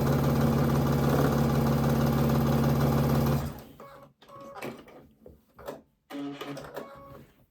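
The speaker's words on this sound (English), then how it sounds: "And we are sewing this right along." A sewing machine stitching quilt fabric: a steady, loud mechanical whir with a fast stitching rhythm for about three seconds, then it stops, followed by fabric handling and scattered bumps.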